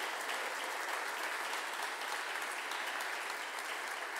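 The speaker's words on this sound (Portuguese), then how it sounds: "Dá um aplauso para Jesus." A congregation claps continuously during a church service, a dense, even wash of applause that holds steady throughout with no voices standing out.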